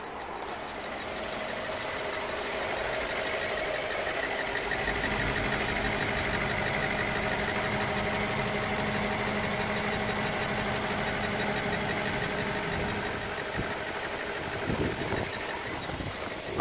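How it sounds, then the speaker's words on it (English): A BMW E90 320i engine idles steadily after repair of a rough idle fault, with a low, even rumble and slight mechanical ticking, close by and continuous with no talking. "I'm going to show you the engine idling."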